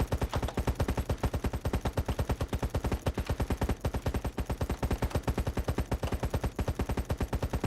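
MG27 machine gun in the video game Battle Prime firing a long continuous automatic burst, rapid evenly spaced shots hammering without pause.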